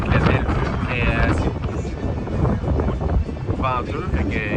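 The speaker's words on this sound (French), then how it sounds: "c'est venteux, fait qu'il y a bien de la vague" Strong wind buffets the microphone at a breezy beach in Cuba, with a continuous rushing roar that may include breaking waves, while people talk over it.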